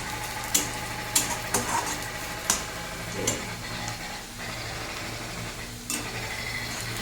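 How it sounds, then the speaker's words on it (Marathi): Onion being sautéed in a pan for masala Maggi, a soft steady sizzle with several sharp clinks of a spoon against the metal as it is stirred. "थोडासा गोल्डन ब्राऊन रंग येईपर्यंत परतून घ्यायचा कांदा."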